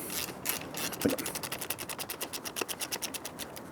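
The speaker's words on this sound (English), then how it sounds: "Now you can get your 14mm wrench back there." A 14mm wrench ratchets on an exhaust nut while fitting an X-pipe to a Euro 5 Triumph Speed Twin 1200, giving a rapid, steady run of close, crisp metallic clicks.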